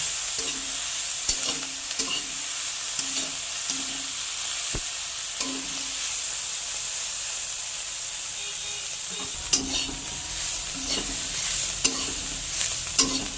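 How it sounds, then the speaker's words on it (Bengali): Dried shrimp fries with turmeric in a pan, a soft steady sizzle with light stirring scrapes and occasional taps of the utensil, fairly quiet and without voices. "হাফ চামচ হলুদ দিয়ে ভালো করে শুটকি মাছটা একটু ভেজে নেব।"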